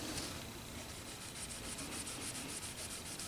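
A fine grit micro mesh pad rubbing over a lacquer gloss finish during finish repair, a faint, steady, close-up scratchy hiss of back-and-forth sanding with no talk.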